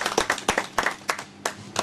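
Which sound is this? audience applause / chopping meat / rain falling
audience applause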